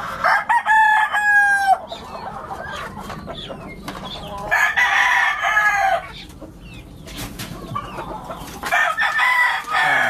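Backyard chickens cluck and a rooster crows repeatedly, the loud crows rising over steady clucking throughout.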